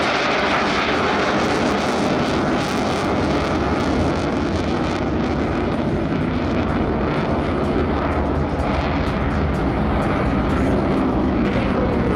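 A loud, continuous Eurofighter jet engine roar fills the whole stretch, dense and unbroken, like the fighter passing close overhead at an air show.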